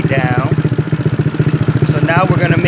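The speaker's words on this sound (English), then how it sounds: "I'm going to bring my idle down." GY6 scooter engine with a PWK carburetor idling low during mixture adjustment, a close, loud, evenly pulsing putter with brief mechanical whines over it.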